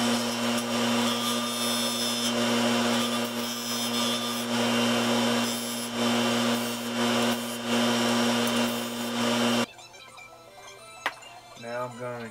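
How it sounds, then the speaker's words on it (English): A disc sander smooths curved wooden letter pieces for a shop sign, a steady loud whirring grind running continuously for about ten seconds before it cuts off, leaving a quiet room with faint handling noises. "Now I'm going to clean everything up on my disc sander, all my curved pieces."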